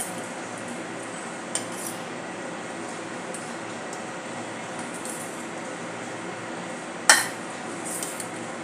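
Chinese bhel ingredients tossed in a bowl with a spoon, a soft steady background with occasional light clinks of metal against the bowl and one sharper scrape near the end.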